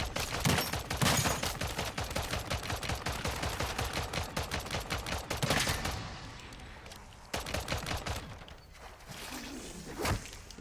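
Automated sentry gun in MW3 Zombies rattling off rapid, continuous bursts of gunfire, loud and close, with a brief lull before further volleys resume near the end.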